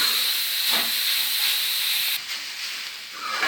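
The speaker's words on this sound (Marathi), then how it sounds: "आता हे व्यवस्थित ह्याचा मॉइश्चर जाईपर्यंत परतून घ्यायचे आपल्याला। बारीक गॅसवरच करायचं आहे हे।" Grated carrots sautéing in ghee on a low gas flame for carrot halwa make a steady, loud hiss that dips briefly near the end. Close by, with no talking.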